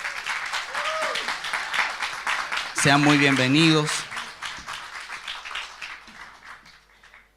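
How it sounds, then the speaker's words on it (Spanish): A church congregation claps to welcome first- and second-time visitors, a moderate patter running beneath a voice speaking Spanish, with a brief sung or drawn-out vocal phrase in the middle. "Quiero que la iglesia les dé un aplauso, por favor"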